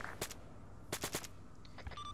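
Video game gunfire during a vehicle assault, with short bursts of rapid shots in clusters at moderate distance and a few scattered single cracks.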